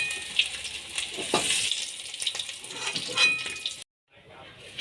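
Besan-dipped stuffed cabbage pieces frying in hot oil give a steady, fairly quiet sizzle with light crackles and occasional utensil sounds, broken by a brief silent gap near the end.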